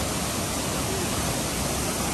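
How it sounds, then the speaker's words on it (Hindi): Ceunant Mawr waterfall at Llanberis, North Wales, pours in a steady, dense roar of fast-falling water that stays loud and unbroken throughout, with no voices. "देखिए कितनी तेजी से पानी गिर रहा"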